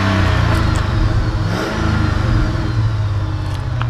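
The 4.7-litre V8 of a 2004 Jeep Grand Cherokee running on LPG idles loudly and revs in short surges, a deep throbbing exhaust rumble close by, with no voices.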